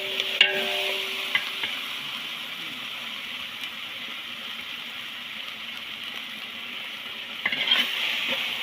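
Curd being stirred into ginger-garlic masala for a jungle biryani cooked outdoors, with a steady soft sizzle, a few scraping stirs near the start and end, and no talking.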